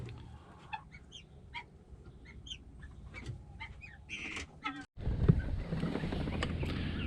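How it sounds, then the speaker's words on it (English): Chickens clucking agitatedly inside a coop as guinea fowl move in on the roost, a run of scattered clucks and squawks at close range, followed by a louder burst of broadband noise near the end. "the guineas have decided to come into the chicken coop, and I think it's really making the chickens angry"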